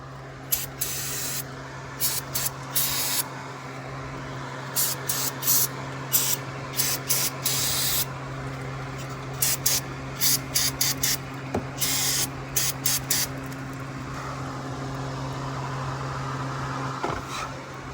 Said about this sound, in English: I'm gonna hit a bit with a little bit of brake cleaner